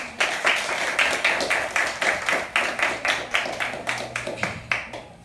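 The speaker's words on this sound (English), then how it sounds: "Give yourselves a round of applause." Schoolchildren at Good Hope Primary and Infant School in St Catherine clap together in a steady, fairly even rhythm of sharp claps, close and moderately loud, with a faint low hum underneath.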